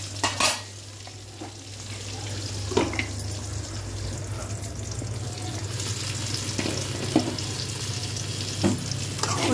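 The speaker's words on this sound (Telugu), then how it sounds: "వంకాయ ఫ్రై అయిపోయిందండి, తీసి పక్కన పెట్టుకుందాం." Brinjal pieces frying in oil for a kurma, giving a continuous close sizzle with occasional stirring scrapes and clinks, steady and fairly loud throughout with no talking.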